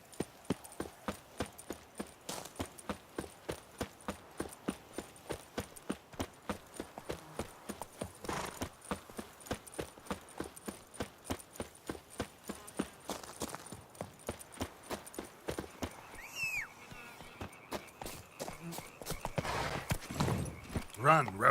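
Roach the horse galloping in The Witcher 3 game, rhythmic hoofbeat clip-clops in an even fast cadence throughout, with a brief whinny and someone talking over parts of it.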